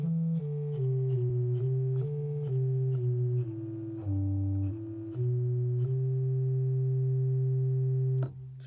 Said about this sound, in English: you can actually hear the sound of the wind going through each one of the notes